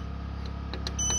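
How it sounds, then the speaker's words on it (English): A Growatt solar inverter gives several quick, faint electronic beeps over a steady low hum as its settings are stepped through. "sorry for all the beeps because I have to go through this and you can see all my different settings"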